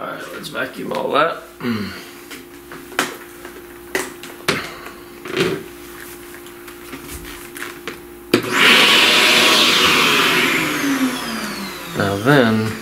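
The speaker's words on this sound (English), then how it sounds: "Vacuum all that." A vacuum cleaner switches on abruptly during a pastel flower drawing, with a loud, steady rushing roar that follows earlier sparse knocks and handling sounds, while a person talks in between.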